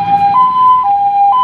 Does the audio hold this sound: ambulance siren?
yes